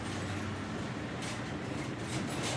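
Train sounds played as background for a pro wrestler's ring entrance at WWE Raw: a steady, loud, rushing rumble with continuous rattling noise and no pauses.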